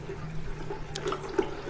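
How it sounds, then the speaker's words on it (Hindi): Water poured into a vessel holding a soil mix, a faint, brief trickle and splash with a low steady background hum. "मिक्स करने के बाद अब इस बर्तन के अंदर पानी डालेंगे।"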